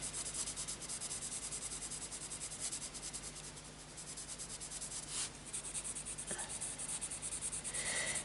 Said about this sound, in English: I'm just going to add a little bit of pencil.